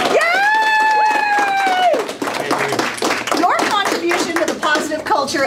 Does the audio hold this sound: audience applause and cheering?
yes